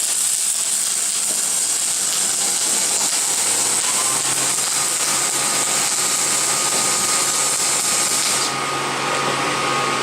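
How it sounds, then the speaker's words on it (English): Welder running a bead on a scrap metal test piece in a shop, a steady close crackling hiss that holds evenly for several seconds before the arc stops near the end. "you want to run a bead on a test piece or just turn the machine on"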